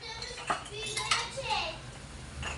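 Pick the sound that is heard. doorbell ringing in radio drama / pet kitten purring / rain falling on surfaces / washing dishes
washing dishes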